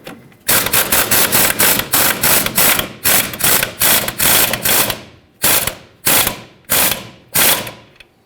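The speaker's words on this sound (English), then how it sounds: "Put the mounting nut on. 18mm socket, tighten this up." A ratchet with an 18mm socket tightens a ball joint mounting nut on a 2007-2014 Chevrolet Silverado 2500 HD. Loud, close, rapid clicking comes in quick strokes, then slows into separate pulls, each with its own burst of clicks.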